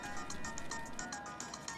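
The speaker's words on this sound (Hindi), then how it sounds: "तेरा फोन बज रहा है बे।" A mobile phone rings with a repeating electronic ringtone, steady pulsed beeps in a quick rhythm, heard fairly faintly over a low background hum.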